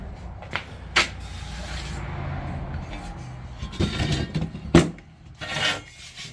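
Abrasive rasping and scraping as mill scale is removed from steel tubing during 1946 Chevy truck sub-floor fabrication, a steady gritty rub with a few sharp knocks and louder bursts near the end.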